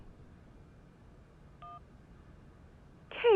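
A phone rings in the video game Syberia: a brief electronic tone sounds first, then a louder ring starts abruptly near the end over a quiet, low background hum.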